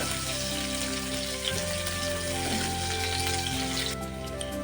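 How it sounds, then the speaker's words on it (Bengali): Chopped onion fries in oil in a pan with cumin, a continuous dense sizzling crackle like rain on a surface, steady and fairly loud throughout with no talking. "সেই পেঁয়াজটা আমি এখানে দিয়ে দেবো দিয়ে একটু ভালোভাবে পেঁয়াজটাকে ভেজে নেব"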